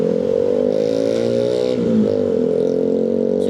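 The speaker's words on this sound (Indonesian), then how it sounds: "Jangan heran ya dengan suara knalpot racing bising dan motor tidak berplat nomor." Motorcycles with loud, noisy racing exhausts ride a road near the Jatinangor campus area, producing a steady droning engine roar with a brief pitch dip midway, close and loud throughout, with no talking.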